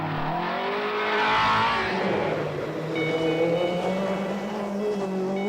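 New Lotus rally car engine revving and accelerating nearby, its pitch rising and falling through gear changes, with brief tire noise over several seconds.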